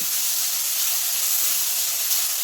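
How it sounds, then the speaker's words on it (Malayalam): Two medium onions sautéing in a hot pan while being stirred for prawn rice, a steady loud sizzling hiss that holds evenly throughout with no voice. "അതിനുശേഷം ഒരു 2 മീഡിയം സൈസ് സവാളയാണ്, അതുകൂടി ഇട്ട് കൊടുക്കുന്നുണ്ട്. ഇട്ട് കൊടുത്തൊന്ന് ഇളക്കി കൊടുക്കാം."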